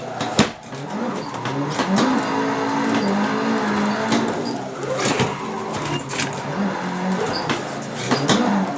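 Nissan 180SX drifting on the Happogahara touge in Assetto Corsa, engine revving and droning with wavering pitch as revs drop and rise, steady and fairly loud throughout.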